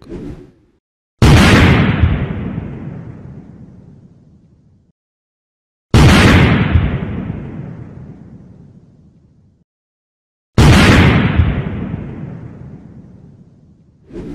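A gas explosion, caught on CCTV, sounds as three identical loud sudden blasts, each with an abrupt onset followed by a long decaying roar and then silence, repeated at regular intervals.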